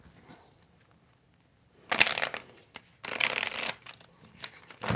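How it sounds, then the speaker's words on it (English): Tarot cards being shuffled by hand, two loud bursts of riffling and flapping, the second longer and rougher, with quiet gaps and lighter taps between. "The way I was shuffling it, it was like all the cards were about to fly out."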